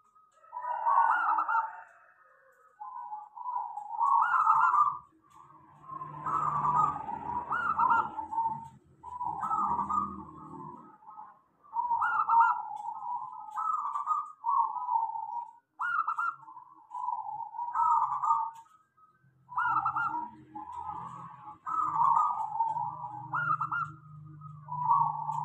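Zebra doves (perkutut) calling in repeated soft cooing phrases, a series of gentle rhythmic coos with short pauses, fairly close and quiet, with faint low background noise at times.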